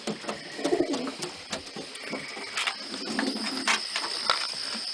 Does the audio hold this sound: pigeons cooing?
yes